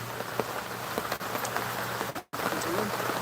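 Rain falls steadily with a soft, even patter, continuous and moderately quiet apart from a brief dropout.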